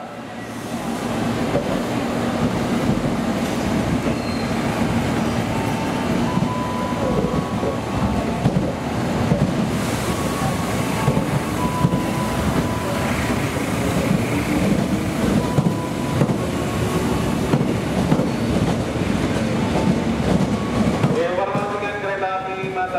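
A train pulls away from an Indonesian station platform with a loud, continuous rumble blended with wind noise, and a rising whine near the end.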